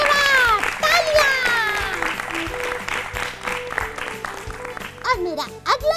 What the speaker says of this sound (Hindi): बिल्कुल सही जवाब, तालियां।